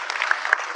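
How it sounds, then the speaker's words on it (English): Brief burst of audience applause at a talk about turning dreams into reality, a dense, even clatter of many hands heard on its own. "let's give them a round of applause for that"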